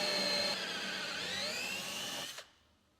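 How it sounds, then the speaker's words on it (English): A power drill bores a 25 mm hole through a caravan floor, a steady whining drone with a slowly shifting pitch that stops abruptly after about two and a half seconds, leaving near silence. "Drill a 25 mm hole through the floor, close to the terminals."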